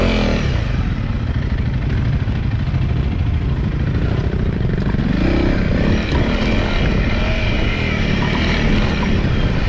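Honda CRF300L dirt bike ridden hard through deep sand, its single-cylinder engine droning loudly and steadily with a constant low rumble, close up and with no talking.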